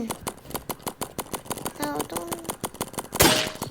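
Paintball guns fire during a paintball game in rapid, repeated sharp pops, a steady stream of shots with a louder burst near the end, while a voice talks excitedly over them.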